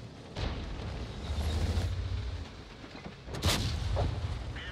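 Tank cannons fire in the World of Tanks game around the T-34-85M on the Pilsen map: two heavy booms, a few seconds apart, each rolling into a low rumble under steady engine noise.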